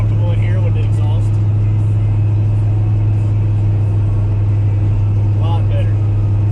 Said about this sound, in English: just cruising the car a little bit